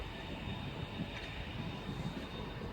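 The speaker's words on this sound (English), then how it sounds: "arriving in now is the 1336 Virgin Trains service to Manchester Piccadilly from London Euston via Crewe" A Virgin Trains service from London Euston via Crewe rolls into Stockport station, a faint, steady low rumble with a thin high whine, no voices.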